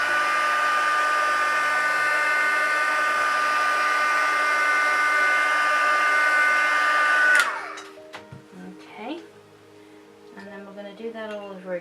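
A hair dryer heat-sets face paint at close range, a loud steady whirring blow for about seven seconds that cuts off abruptly, followed by quiet handling clinks and faint rustles.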